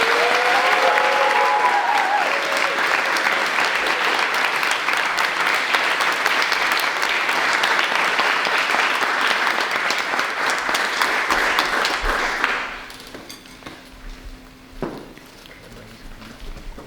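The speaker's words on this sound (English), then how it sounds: "Ladies and gentlemen, please a round of applause for our graduates" A school audience applauds graduates at a Montessori graduation ceremony: loud, sustained clapping that holds steady, then cuts off abruptly, leaving quiet room sound and a few small noises.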